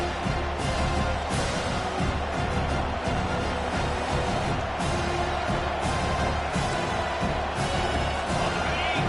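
Home crowd noise at a College Football 25 game, Alabama against Tennessee, a steady dense roar of cheering that holds throughout with no pauses.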